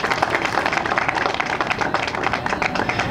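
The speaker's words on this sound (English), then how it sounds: "Big round of applause." Applause at the grand opening of a Santo Fish restaurant in Pico Rivera: a crowd claps steadily and fairly loudly for about three seconds, with no talk over it.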